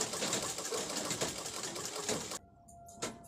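A sewing machine runs close by, stitching clothes in a fast, steady mechanical whir with rhythmic needle pulses for about two seconds, then stops and leaves a quiet hum and a brief click.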